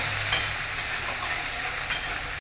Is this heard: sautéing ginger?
yes